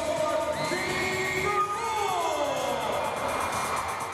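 A basketball arena crowd roars and cheers with scattered whoops and yells, a loud, sustained wash of noise filling the space throughout.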